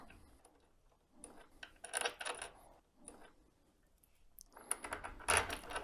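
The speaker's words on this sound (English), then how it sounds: "put my bolts in place" Bolts set by hand into a demo fixture plate give small metallic clicks and clatters in quiet, irregular clusters, close by but faint.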